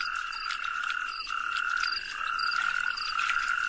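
Toads call in a dense chorus during mating season, with steady overlapping trills and croaks forming a continuous, fairly loud outdoor din and no voices.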